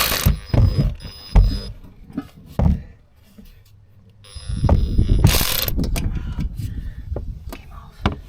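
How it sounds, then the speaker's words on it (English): A cordless ratchet works on a truck, giving several close bursts of rapid mechanical whirring and clicking, separated by quieter pauses and handling noises. "Cordless ratchet."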